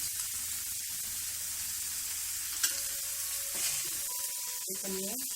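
Mixed vegetables with eggplant and crushed peanut powder stirred in a pan for a village-style Bhogi mixed vegetable dish, with a close continuous sizzle and repeated scraping strokes of the spoon, no talk.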